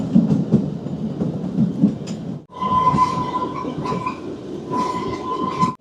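The Kalka-Shimla toy train runs through the mountains with a loud, close rumble of wheels on rails, a short dip midway, then a sustained high metallic wheel squeal.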